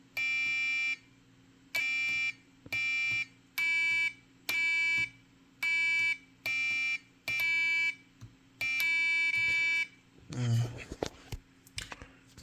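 An electronic buzzer sounds in about ten evenly spaced beeps, clean and bright, then a rougher, warbling buzz when both switches are pressed together, the two tones failing to combine.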